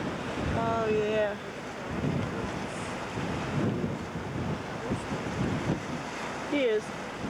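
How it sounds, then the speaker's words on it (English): Ocean waves break and wash over rocks on the Nova Scotia coast, a continuous loud roar with heavy wind buffeting the microphone and a few faint high calls cutting through. "we can hear the waves and the rocks"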